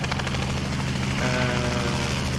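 Robinson R44 helicopter in the X-Plane 11 flight simulator, during a tail rotor failure, gives a steady, loud, continuous rotor and engine drone with a low, pulsing hum that runs unbroken throughout.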